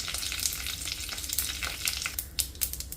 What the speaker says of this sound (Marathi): सर्वप्रथम आपण यामध्ये मोहरी घालूया, त्यानंतर जिरे घालूया, कढीपत्ता,